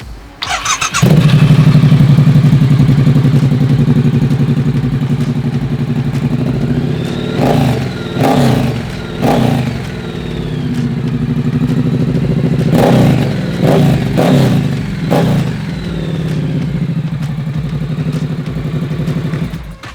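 A custom Triumph Scrambler 1200 XE supermoto built by Thornton Hundred fires up and settles into a loud, lumpy idle, then takes several sharp throttle blips and revs that rise and fall, close by with no talking.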